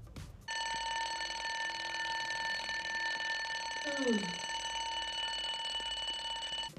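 A morning alarm clock rings with a steady, continuous high electronic buzz, loud and unbroken, with a brief low murmuring voice passing under it midway.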